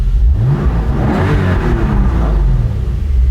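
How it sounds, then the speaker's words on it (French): Engine of a classic Porsche, loud and close, revving up through rising and falling tones during a drive, heard alone without talk. "Là, c'est moins feutré que dans la coupée, forcément, le moteur est plus présent."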